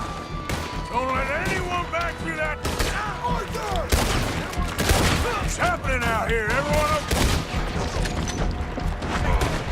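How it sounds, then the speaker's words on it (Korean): Gunfire in the video game Red Dead Redemption 2, repeated sharp shots and bursts among game noise and music, with people talking over the action. "저기서 총 쏘고 있는 거 보니까."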